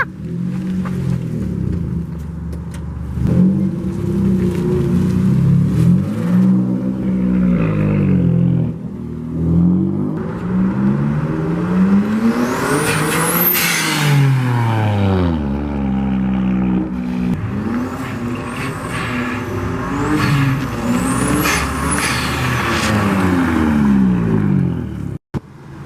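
A turbocharged Honda J32 V6 swapped into a Civic revs repeatedly while driving, loud and close, its pitch climbing and falling through several throttle pulls with turbo whine on top.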